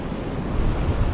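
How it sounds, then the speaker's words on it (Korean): Ocean waves surge and break at a rocky fishing point, a loud, steady roar of churning surf mixed with wind buffeting the microphone. "파도 옵니다, 파도 옵니다."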